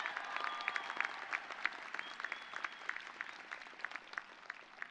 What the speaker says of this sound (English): Let's clap it up for Elizabeth.